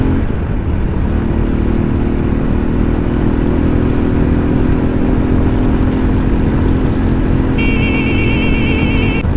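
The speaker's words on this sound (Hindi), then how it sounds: "लो जी छठे गियर में डाल दिया, अब इसको उड़ाना ही है हमने सिर्फ" An adventure motorcycle cruises at high speed in sixth gear, its engine giving a loud, steady drone with strong wind rush for the whole stretch.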